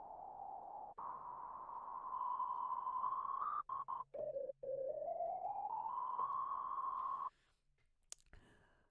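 Synthesized drone from the Surge XT software synth: a sustained noisy tone that dips briefly, sweeps slowly back up and holds, with a couple of short dropouts before cutting to near silence.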